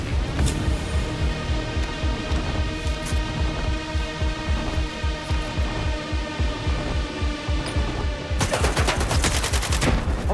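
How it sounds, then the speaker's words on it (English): Sustained rapid enemy gunfire in S.T.A.L.K.E.R. 2: Heart of Chornobyl, a dense run of repeated shots over a steady low hum, growing sharper and louder near the end. "Okay, he's actually shooting at me"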